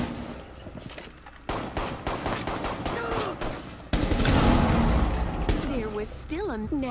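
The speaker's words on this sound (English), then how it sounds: "I'm just shooting at the traps and shit." Rapid video-game gunfire from Breach and Clear shoots at traps in a room, loud bursts and sustained volleys filling the scene along with game sound effects.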